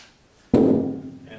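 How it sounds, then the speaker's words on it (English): A welded metal gas tank flexing with oil canning, one sudden loud pop or thunk as the metal springs back out, ringing briefly and decaying after a quiet lead-in. "What you're hearing is just a little bit of oil canning in the tank"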